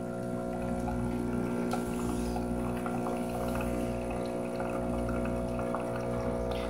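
A Breville espresso machine hums steadily as its pump pushes water through while brewing a shot with weak pressure, a continuous droning buzz with faint trickling, no talking.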